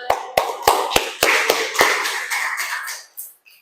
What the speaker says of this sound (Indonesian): Tepuk tangan mana?